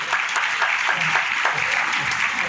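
An audience at a public gathering honouring the chief minister claps in a dense, steady burst of applause that stays even and loud throughout.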